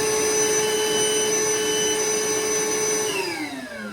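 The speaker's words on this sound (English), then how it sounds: "So this is the shop vac." A shop vacuum from a Milwaukee M18 3-in-1 backpack vacuum runs loud and steady with a high whining motor tone that drops in pitch near the end as it begins spinning down.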